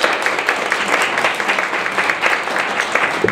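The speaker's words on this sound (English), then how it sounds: "let's give them a round of applause" An audience at a workshop gives a round of applause, a dense patter of many hands clapping together close by for a few seconds, steady and without breaks.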